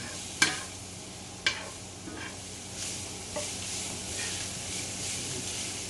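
Thinly sliced large onions cook in a pan for an onion-ring style cheddar steak burger, giving a soft steady sizzle with a couple of sharp utensil clacks early on and quiet stirring scrapes, no voices.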